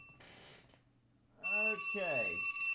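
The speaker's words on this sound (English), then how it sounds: "We have my phone ringing somewhere in my pocket." A mobile phone rings from inside a pocket, a steady electronic ringtone that starts partway through and keeps going while someone talks over it.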